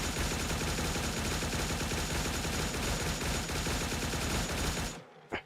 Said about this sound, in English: with my 9mm fucking submachine gun or whatever